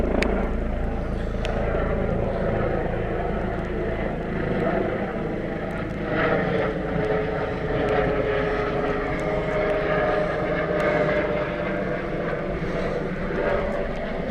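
A low-flying helicopter, not the black and yellow police one, with a steady, loud rotor and engine drone that holds evenly overhead throughout, under some faint outdoor noise.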